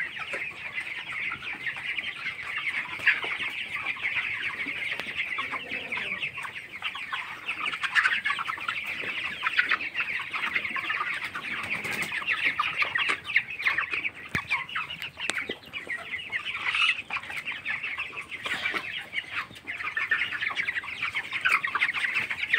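Twenty-two-day-old broiler chickens on a poultry farm cluck while eating on a cold day, a constant busy murmur of many birds close by with scattered louder calls and no talking.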